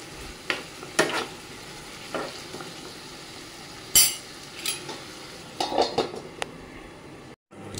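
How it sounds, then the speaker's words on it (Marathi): Food being stirred and sautéed in a pan for a small-fish (chotya kelambi) curry, with scattered scraping clicks of a spoon against the pan over a low, steady sizzle, louder clanks recurring through the second half. "आता पाहूया, आपण चांगलं परतून घेऊ, सर्व शिजलं जात आहे।"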